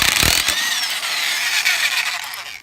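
An impact wrench with a 7/8 socket whirs loudly at close range while taking lug nuts off a 2012 GMC Acadia, a harsh continuous power-tool buzz with a rough start that settles into a steady drone.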